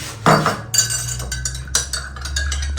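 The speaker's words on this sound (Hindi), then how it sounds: "दूध मिक्स हो गया, चीनी घुल गई है, चम्मच रखता हूँ यहाँ पर।" A metal spoon set down after stirring milk with sugar gives one sharp, close clink, followed by a few lighter taps and soft kitchen clatter over a low steady hum.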